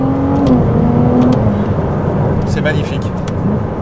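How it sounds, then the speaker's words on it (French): A Ferrari 296 GTB engine revving on the road through quick gear shifts. Its close, loud drone rises and then drops as each shift comes, while someone talks over it. "je vous laisse juste écouter la vitesse de passage des rapports"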